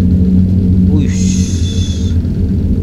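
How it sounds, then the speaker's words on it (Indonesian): Heavy loaded truck passing close alongside an intercity bus on a Jakarta–Pekalongan run, a steady low rumble with a brief rising whoosh in the middle, under continuous cabin noise. "truk muatan berat."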